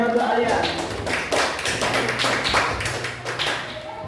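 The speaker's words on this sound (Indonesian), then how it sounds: "terima kasih tepuk tangan yang meriah untuk Alia" Classmates in a school classroom clap for a student, Alia, after her presentation on the digestive organs, a short burst of uneven nearby hand claps with voices talking through it.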